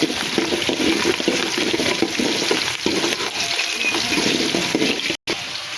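Small shallots and garlic sautéing in a pan for a bitter gourd tamarind curry, a continuous close sizzle and hiss with faint stirring scrapes, briefly cutting out near the end.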